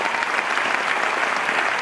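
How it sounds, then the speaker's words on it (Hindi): Audience at a live event breaking into loud, sustained applause, dense steady clapping from a crowd throughout with no talk over it. "सभी देवियों के लिए जोरदार ताली।"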